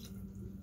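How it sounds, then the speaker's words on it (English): Water pouring into a bottle, a short steady splashing trickle heard up close with no talking. "I'm only pouring this much water in here, and this much is gone from my bottle"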